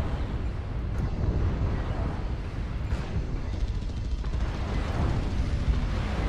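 Dense, continuous rumble of incoming missiles exploding around a Cyclops mech in MechWarrior Online, a loud, blurred barrage with no clear gaps.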